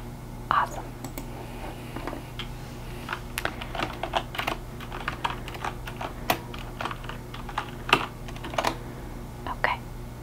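Close, soft typing on a computer keyboard in a quiet library-style setting, with irregular clusters of crisp key clicks over a low steady hum and faint whispering.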